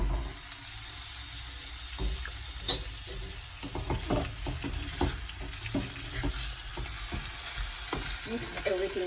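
Boiled potatoes fry with spices in a pan: a steady sizzle with frequent scraping, clattering stirring strokes, loud and close, with no talking.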